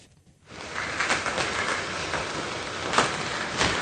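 Heavy rain falls in Kasaragod, starting abruptly after a quiet moment and then continuing as a steady, fairly faint broadband wash of drops with no voices.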